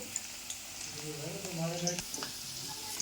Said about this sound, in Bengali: অল্প আছে লাল লাল করে এটাকে ভেজে নিতে হবে।